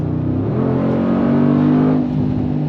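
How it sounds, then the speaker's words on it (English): A 2024 Mercedes-AMG G63 in Sport Plus mode pulls under throttle with a deep, loud, steady engine drone whose pitch rises slightly, heard from inside the cabin with no talk. "Let's put it into Sport Plus and give it throttle again. Oh my god. It sounds like a monster"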